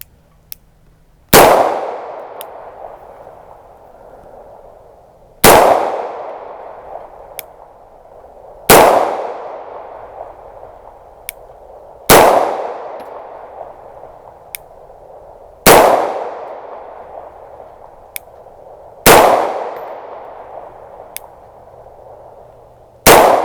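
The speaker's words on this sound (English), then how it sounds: "let's shoot 10 rounds over the chronograph and see what we get here" Six loud, sharp 9mm pistol shots fired over a chronograph at an outdoor range toward a rotten log backstop, each crack followed by a decaying echo, spaced roughly three to four seconds apart with no talking.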